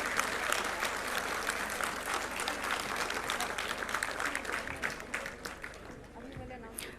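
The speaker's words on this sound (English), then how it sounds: "please give a big round of applause to them." An audience at a university convocation and foundation day ceremony breaks into sustained, dense applause, many hands clapping steadily in a large hall, with voices faintly mixed in.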